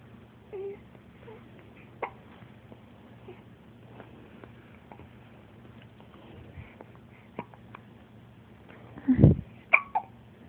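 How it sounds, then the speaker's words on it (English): Soft, sporadic hiccups from a baby in a quiet room, faint small bursts early on, then a sharper, louder hiccup near the end followed by a few small vocal sounds, over a low steady background hum. "you got hiccup?"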